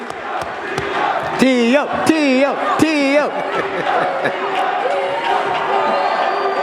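A crowd at a boxing press conference cheers and hollers loudly, with one voice letting out long wavering whoops, while people talk over the noise.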